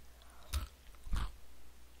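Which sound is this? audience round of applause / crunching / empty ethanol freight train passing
crunching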